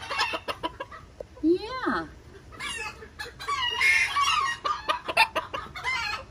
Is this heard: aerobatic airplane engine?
no